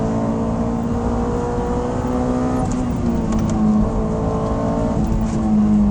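Honda S2000 AP2 hopping over road bumps, its engine droning steadily from inside the cabin with a steady harmonic hum and faint knocks, loud and continuous without talk.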